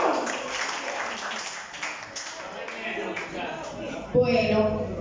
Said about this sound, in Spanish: Eso, un aplauso.